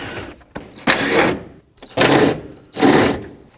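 An electric impact wrench rattles out 10mm fan shroud bolts on a 2001-07 Toyota Sequoia, three loud, close bursts of hammering buzz roughly a second each, separated by short pauses.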